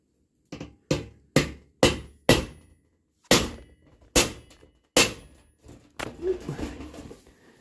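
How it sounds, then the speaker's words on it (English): Rivets hammered on an anvil for a return air inlet in wood stove ductwork: a series of sharp, close metallic strikes in an uneven rhythm, about ten blows with short gaps, ending in clattering handling noise. "I have not done a lot of riveting in this fashion, but it just seems like kind of a fun way to attach it."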